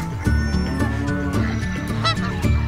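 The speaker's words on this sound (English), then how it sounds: "Another goose." A goose honks repeatedly in quick, nasal bursts, loud and close, over a steady musical background with no talking.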